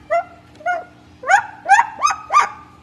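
A cockatoo imitating a dog's bark, six close, loud yelping barks: two quick ones, a pause, then four in a steady run, with no talking.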